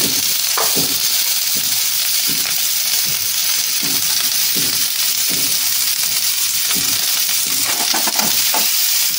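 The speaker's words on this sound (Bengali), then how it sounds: "নেড়ে দিতে হবে পরিমাণ মতো হলুদ আর পরিমাণ মতো নুন" Beans stirred in a pan with turmeric and salt, giving a steady sizzle with repeated scraping stirs throughout, loud and close, no voices.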